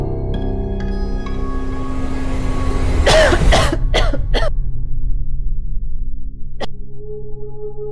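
Coughing from someone who has been coughing all night with a cold and sore throat: a cluster of sharp, harsh bursts in the middle, then one more isolated cough, over a steady low background hum.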